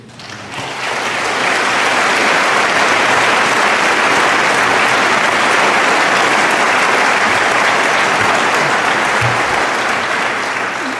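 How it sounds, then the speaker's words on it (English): Enthusiastic audience applause after a speech, a full, loud wall of clapping that swells within the first second and holds steady for the rest. "that applause just ran us over time."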